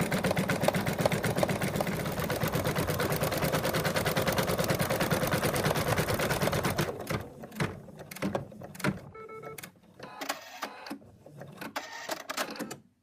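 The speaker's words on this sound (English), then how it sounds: "now we're going to stitch it to secure it to the rest of the body" An embroidery machine stitching an appliqué piece onto a cat figure's body, giving a fast, even rhythmic clatter of needle strokes for several seconds, then stopping and giving way to scattered clicks and handling sounds.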